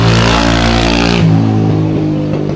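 A loud motorbike engine roars close by, its steady harmonic drone dropping in pitch midway as the bike passes and moves off, fading slightly at the end; no talking.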